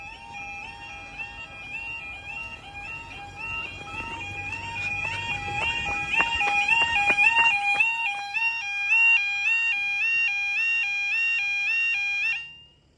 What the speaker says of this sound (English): See, I am liking the new alarm.